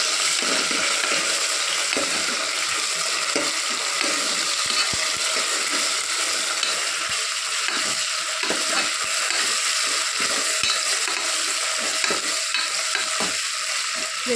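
Chicken frying in a pan for chicken curry, a loud dense sizzle held steady throughout, with faint scraping and clicking from stirring layered over it and no speech.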